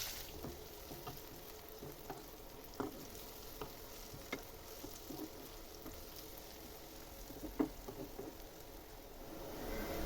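Sliced onions frying in hot oil for birista, the crisp fried onions for homemade chicken biryani; a faint, steady sizzle with scattered soft pops and spatters, no talking.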